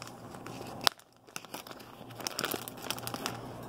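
A plastic bag crinkles and rustles as it is handled for a home ice experiment, with a sharp crackle early on, a brief lull, then steady crinkling that builds toward the end.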